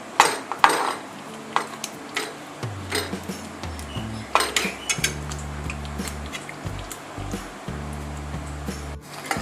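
Fried paneer is tipped into a pan of shahi paneer gravy and stirred, with a metal spoon clinking and scraping against the pan in irregular bursts under a low sizzle, close up and without talking.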